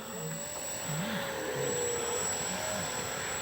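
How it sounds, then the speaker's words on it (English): A Dynam Tiger Moth RC biplane flying, its small propeller engine giving a steady continuous buzz with a faint wavering pitch, moderately distant and alone without talk. "Just a nice, gentle flying plane."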